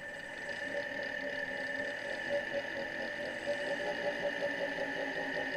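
A 1995 Solectria E10 electric car running with a little throttle applied gives off a steady mechanical whine and hum with a fine ratcheting texture, close and continuous.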